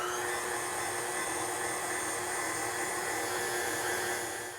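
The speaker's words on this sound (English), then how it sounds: "because it's powdered, you want to start your mixer on low so it doesn't poof out everywhere" Electric hand mixer running steadily on low speed while blending powdered sweetener into a creamy keto lemon cheesecake filling, a continuous whirring motor hum held close and even throughout.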